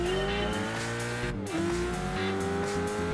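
Racing car engine from Gran Turismo 5, a steady high drone held through a gear change with a brief dip and rising pitch, plus faint tire noise, loud and continuous.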